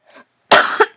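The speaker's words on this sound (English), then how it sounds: "I'm sorry for coughing." A person coughs up close, a faint short throat sound followed by one loud, harsh cough with a brief second burst at its end.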